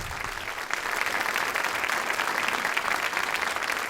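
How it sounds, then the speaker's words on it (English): Steady applause fills a broadcasters hall of fame presentation, a large audience clapping continuously and fairly loudly after a short quieter opening, with no voices on top. "So you guys got applause."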